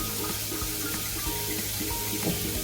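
Water pours steadily into a pan of tempered radish curry on a lowered gas flame, a continuous rushing splash mixed with faint sizzling, with no talk.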